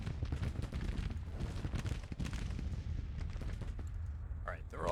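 Cannon and musket fire crackles and booms in a Civil War strategy game battle, rapid overlapping shots under a steady rumble, with a voice talking over it.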